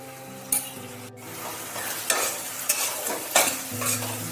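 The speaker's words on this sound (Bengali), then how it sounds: "আমি এই রান্নার যে অংশটা এখন করছি, এতে আমি মশলাটা কষছি।" Spice masala with red chili powder and tomato paste fries in a pan while being stirred, a bright sizzle punctuated by several loud scraping strokes of the spoon against the pan.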